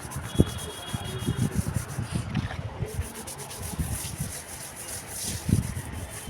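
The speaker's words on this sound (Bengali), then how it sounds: "আমি এই জলটা দিয়েই এই জায়গাটা ঘষে দিয়ে ফেলবো।" A floor area being scrubbed by hand with leftover water, giving continuous close rubbing and scraping strokes with a few sharper knocks, a faint voice now and then underneath.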